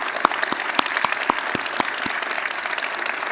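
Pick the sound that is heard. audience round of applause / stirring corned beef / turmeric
audience round of applause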